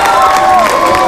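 Studio audience of a television game show cheering and clapping, a short loud burst of crowd noise with shouts layered over applause.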